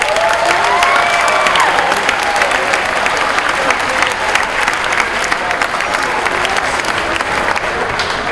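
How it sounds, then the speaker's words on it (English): A school Memorial Day assembly audience gives a loud, sustained round of applause with some cheering and crowd noise, dense clapping continuing evenly throughout. "Let's give them a round of applause."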